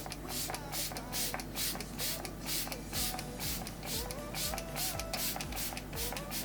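A rapid series of short, fine hisses of facial setting mist spray pulsing in a quick rhythm, close and fairly soft, with no talking.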